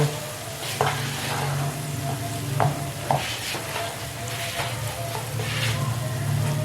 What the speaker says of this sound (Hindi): अच्छे से आपने मिक्स करना है इसमें कनौर क्यूब को